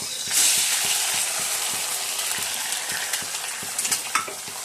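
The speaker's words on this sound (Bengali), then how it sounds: "এই জন্য আলুটা ভাজা হয়ে গেছে, তেলটা দিয়ে দিয়েছি। এবার ডিমটা দিয়ে দেবো।" Egg goes into a pan of frying potatoes in oil, bringing a bright hissing sizzle with a steady crackle and small stirring clinks, close and continuous without speech.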